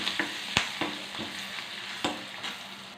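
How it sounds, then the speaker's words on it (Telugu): Garlic, green chilies, curry leaves and turmeric frying in a pan, a steady soft sizzle punctuated by repeated light scrapes and taps of a spoon stirring, close and fairly quiet. "కరివేపాకు, పసుపు తిప్పుకున్నామండి. కొద్దిగా ఎర్రగా వేగేదాకా"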